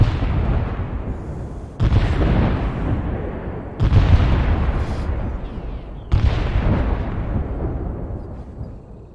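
Mortar rounds firing in a combat video game, four heavy booming blasts spaced about two seconds apart, each followed by a long rumbling decay, loud and close with no talk.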